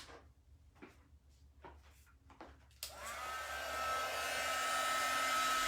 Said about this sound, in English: Actually, I'm going to use my heat gun.